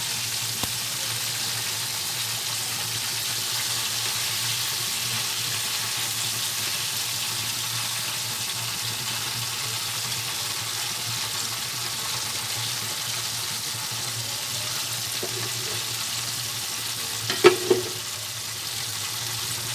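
Continuous hiss of KFC-style chicken pieces frying in oil, steady and fairly loud, with a couple of brief clanks near the end.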